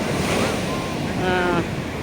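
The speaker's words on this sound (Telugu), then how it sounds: "సాయంత్రము అలలు ఎక్కువగా ఉంటాయి అన్నారు" Ocean surf rushes and roars close by at the Old Harbour in Pondicherry, mixed with wind buffeting the microphone and a faint voice in the background.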